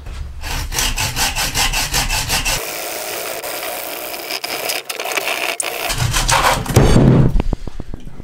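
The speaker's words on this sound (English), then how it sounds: "Got my trusty bow saw here and we'll just start taking it down." A bow saw cuts through a cherry log in steady back-and-forth strokes, loud and close, with a brief pause mid-clip before the rasping strokes resume.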